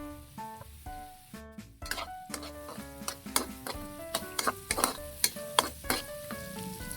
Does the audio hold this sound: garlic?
yes